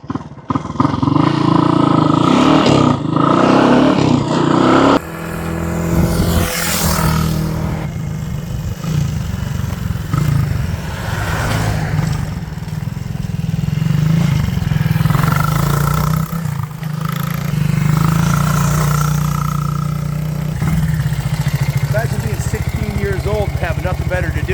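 A 1980 Honda XR200 motorcycle with 956 original miles, its engine running loud and close for the whole stretch, idling and revving in a rough continuous roar.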